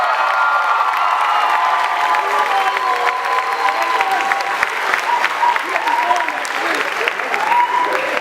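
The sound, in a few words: audience applause for graduates at commencement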